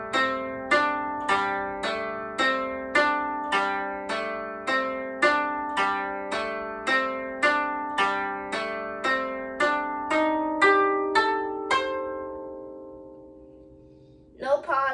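A plucked koto plays a repeating pattern of about twenty evenly spaced notes from the piece Hana Ikada, each ringing briefly before the next; the notes die away and a voice starts.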